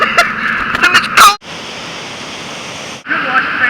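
Rushing river water in a gorge, a dense steady roar lasting over a second between bursts of nearby chatter and movement.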